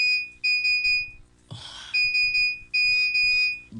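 An iPhone 6 ringtone plays as repeated electronic beeping tones in short bursts, loud and close, broken by a brief noisy rustle partway through.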